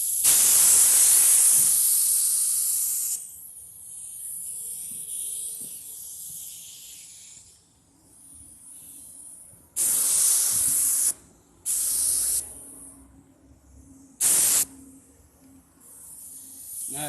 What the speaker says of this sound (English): we're going to go ahead and put our first coat of clear on it